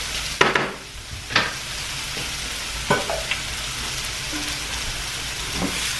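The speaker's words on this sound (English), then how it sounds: "This shrimp and these mushrooms kind of stirred around a little bit." Shrimp and mushrooms fry in a pan with a steady sizzle, broken by a few sharp scrapes and clacks as they are stirred around; no talking.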